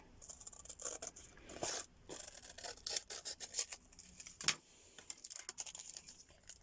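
Scissors snipping paper scraps down to size for an ephemera craft project, a quiet run of short crisp cuts and light paper rustles, close up with no talk.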